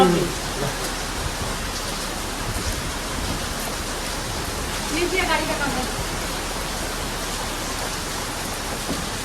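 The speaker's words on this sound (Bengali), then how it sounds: "বৃষ্টি হচ্ছে" Steady rain pours down in a dense, continuous hiss, with a faint voice briefly audible underneath.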